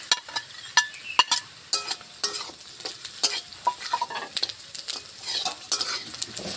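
Egg chow mein is stir-fried with fried eggs in a pan: a quick, irregular run of sharp utensil scrapes and clinks over a light steady sizzle, close and fairly loud, with no talking.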